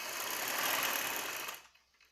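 A sewing machine runs fast and steady, stitching a yoke onto a baby summer frock, a close whirring buzz that holds for over a second before stopping abruptly.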